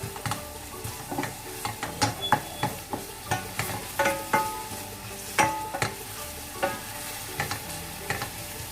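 Onion sautéing in hot oil for pancit canton, a bright continuous sizzle broken by rhythmic scrapes and taps of a spatula against the pan roughly twice a second, close and with no talk.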